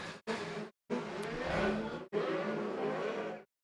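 Autograss race cars tearing around a dirt track at a British Autograss Series meeting in Evesham, engines roaring and revving hard in loud bursts separated by abrupt cuts of silence.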